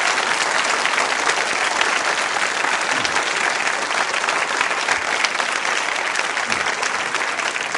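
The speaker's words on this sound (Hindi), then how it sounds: "संकल्प के लिए जोरदार तालियां बजाइए आप" Loud, sustained applause from a large studio audience at a school quiz show, dense steady clapping filling the whole stretch without pause.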